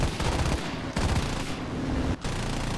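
Rear gunner's machine gun in War Thunder firing from a Pe-3 bomber at a Buffalo fighter: sustained rapid automatic fire with two brief breaks, loud and close over constant engine drone.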